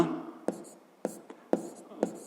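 Pen on paper while numbers are written by hand for a sixth-grade math exercise: five short, crisp scratching strokes at an even pace, close and fairly clear.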